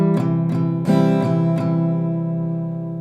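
Acoustic guitar strumming five downstrokes with a stronger accent partway through, played close and clear, the chord left to ring out and fade after the last stroke.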